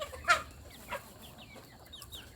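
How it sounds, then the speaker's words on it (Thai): Farm chickens on a Thai household poultry farm, raised in a low-cost coop, give a few short, faint clucks at a distance, with soft chirps scattered over a quiet background and nobody talking. "ไก่ชุดนี้เราไก่อยู่ในฟาร์มของเขาทั้งหมดนะครับ"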